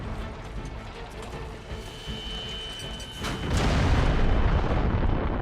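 A World War I German Paris Gun, a giant long-range cannon, fires in a documentary sequence. A sudden heavy boom lands about two-thirds through and rolls into a loud, sustained rumble after a quieter stretch.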